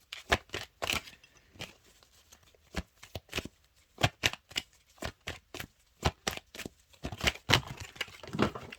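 Tarot cards are shuffled in a string of sharp, quiet riffles and flicks, some short and some in longer bursts, coming irregularly with small pauses between them and no talking.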